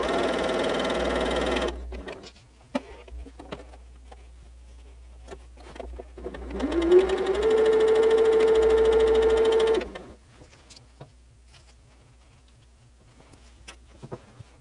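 A sewing machine stitches a small scrap of fabric at the start of a barn star sampler quilt block, its fast mechanical buzz running in two close bursts with a brief pause between.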